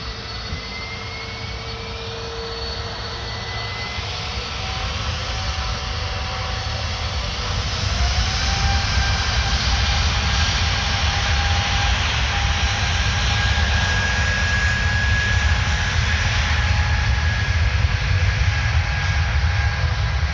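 An Airbus A330 jet takes off from Paris Orly, its engines roaring as a steady, loud broadband rumble with whining tones that grows louder around the midpoint and holds strong as the aircraft gathers speed.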